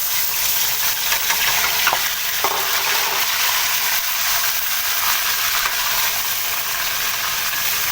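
Marinated chicken fries in hot oil in a pan over high heat for qorma, giving a steady, loud, close sizzle that runs the whole time with brief stirring scrapes and no talking.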